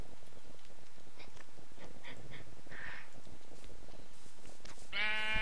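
Sheep in the Minecraft video game bleating faintly a few times, short distant calls over a steady background hiss, ending with a louder buzzy tone.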